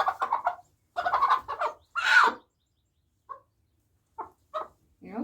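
American Bresse chicken giving a few short clucks and a throaty squawk up close, separated by quiet pauses, with a soft calming voice heard nearby.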